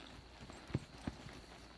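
A horse being worked and bent steps slowly, giving two clear hoof clops on firm ground about a third of a second apart, with softer footfalls around them, quiet and close.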